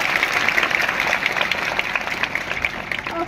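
A crowd of children at a girls' school event claps energetically, dense steady applause with a few faint voices mixed in.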